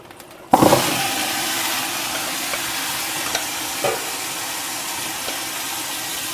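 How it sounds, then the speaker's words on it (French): Vegetables hitting hot oil for couscous set off a sudden loud sizzle that settles into a steady frying hiss with small crackles and pops, close by, with no talking. "Alors je rajoute un peu d'huile et j'ajoute la suite des légumes."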